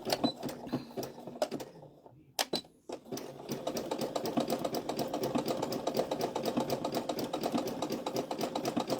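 A sewing machine stitches an appliqué dishtowel, its rapid needle tapping stopping briefly, then resuming in a fast, steady, close clatter.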